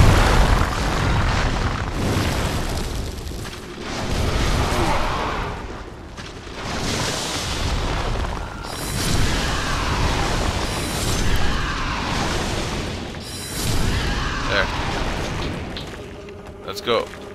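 Explosions in a co-op video game, heard as repeated heavy booms and crashing bursts that swell and fade over a steady loud game-sound bed, with players talking throughout.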